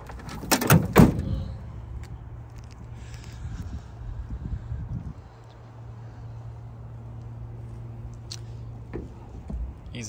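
The bed of a 2024 GMC Sierra AT4X pickup truck being closed up, heard as a loud close thud and clunk near the start, followed by quiet outdoor background hum and wind.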